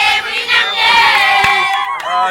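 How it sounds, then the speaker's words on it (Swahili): Crowd of townspeople in Sange, in the Ruzizi valley, cheering and shouting as FARDC national army troops enter town; dense, loud, continuous mass of voices with high-pitched cries rising and falling throughout. "Wananchi wamekuja kushangilia kuingia kwa jeshi la taifa FARDC katika mji wa Sange."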